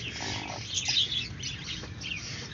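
A newborn country (nattu kozhi) chicken chick chirping right after hatching, a thin high peeping close by, with soft handling noise and no talking.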